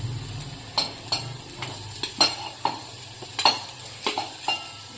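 Carrots and onion sautéing in a pan for sweet corn soup, a steady soft sizzle broken by repeated scraping stirs of a spoon, close and fairly quiet, no talking.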